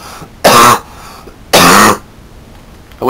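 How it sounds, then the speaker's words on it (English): Two harsh, loud human coughs burst out about a second apart, each short and raspy, with quiet between them. "I have quite a bad cough at the moment"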